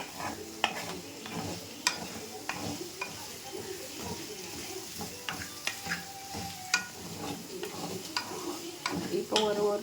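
Skin-on potato pieces roasting in a pan, a quiet steady sizzle broken by irregular scraping and clacking of a spatula stirring them, close and without talk.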